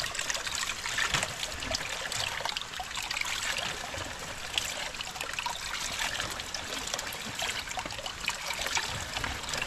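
Spring water gushes from a pipe in a steady, splashing flow, loud and close, continuous without pause and with no voices heard.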